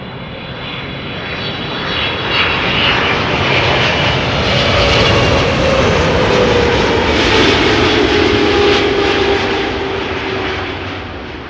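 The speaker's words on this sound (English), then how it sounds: "There's something about the 777-300s that make their engine sounds even better" A loud, sustained roar of Boeing 777-300ER jet engines landing at Amsterdam Schiphol, runway 06, builds and holds steady, with a rising whine threading through the rushing noise before it eases slightly.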